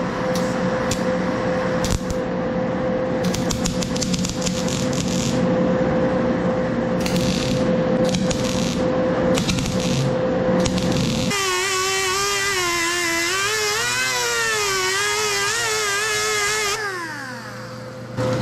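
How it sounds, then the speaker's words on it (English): Metal being ground on a custom welded truck bed, with intermittent bursts of harsh grinding and a steady tonal whine that gives way to a wavering, pitch-shifting motor drone, loud and close throughout. "Finishing up my grinding."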